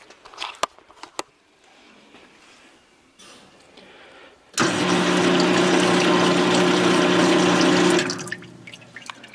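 A pump drawing mineral spirits while sucking air starts after a few faint knocks and clanks, running as a loud steady churning whir for about three seconds before stopping.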